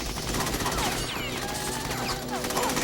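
Rapid, continuous gunfire in the video game Metal Gear Solid 2: Sons of Liberty, a dense rattle of overlapping shots that holds loud and steady throughout the short stretch.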